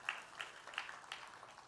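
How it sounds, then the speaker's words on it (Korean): Church congregation applauding at a Sunday morning service to welcome a guest, a wedding groom-to-be, with soft scattered clapping that is faint and distant throughout. "박수로 환영하겠습니다"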